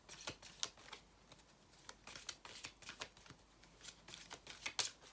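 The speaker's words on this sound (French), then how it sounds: "J'espère que mes cartes ne font pas trop de bruit." Tarot cards being shuffled in a quiet room, a run of crisp riffling flutters and soft card snaps repeating irregularly, close and fairly faint.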